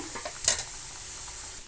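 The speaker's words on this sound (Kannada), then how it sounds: "ಈಗ ಒಗ್ಗರಣೆ ಕೊಡೋದು ಪಾತ್ರೆಗೆ" A sharp burst of sizzling as hot tempering hits a pot of sprouted horse gram sambar, flaring briefly then settling into a low steady hiss.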